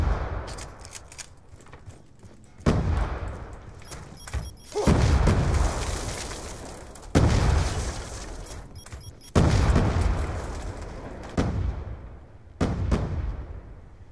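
Deep, booming blasts from a nuclear killstreak in a video game roll out in several loud bursts a few seconds apart, each one fading into a rumbling tail.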